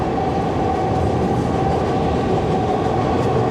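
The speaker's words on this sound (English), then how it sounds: "Damn trains." A train rumbles past close by in Kensington with a loud, steady roar of wheels and rail noise that fills the whole stretch without a break.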